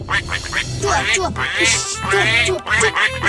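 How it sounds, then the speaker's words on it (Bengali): Cartoon ducks quack in a run of short nasal calls, with a person's voice repeatedly shouting to shoo them away over the quacking. "আমার মনে হচ্ছে এটা হাঁসের শব্দ।"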